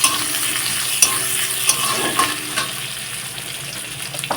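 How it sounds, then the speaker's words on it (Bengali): Onions fry in oil in a pan while a spoon stirs them, a loud continuous sizzle with repeated scraping and clinks against the metal, close and without talk. "পেঁয়াজগুলো কিন্তু লাল লাল করে একটু ভেজে নেব"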